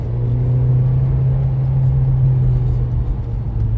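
A Renault Clio 4 RS Trophy 220 hp engine rumbles steadily up close with a deep, continuous exhaust drone, holding a constant low tone without clear rev peaks.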